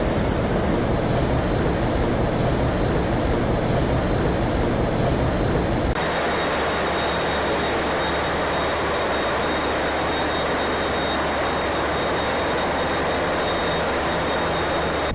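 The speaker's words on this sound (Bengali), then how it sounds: "এই লঞ্চের প্রোপেলারটা ঘুরছে আর আমাদের লঞ্চ সামনের দিকে এগিয়ে যাচ্ছে" Large river launch engine and spinning propeller on a Dhaka to Barisal passenger boat trip, a loud, dense, unbroken mechanical roar and water churn, close by, with a sudden shift in tone partway through.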